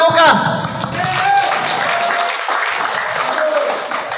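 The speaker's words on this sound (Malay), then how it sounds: "Berikan tepukan." Crowd applause swells at a Malaysian political rally backing Barisan Nasional, a brief shout opening before thick clapping carries on at a fairly loud, even level with voices mixed in.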